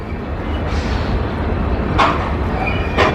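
Long Kanchanjunga Express passenger train rumbling past close by, a steady heavy roar with brief brighter bursts of wheel and carriage noise.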